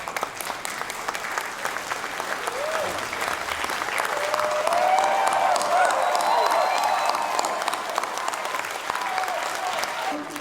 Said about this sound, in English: we can give them all a big, warm round of applause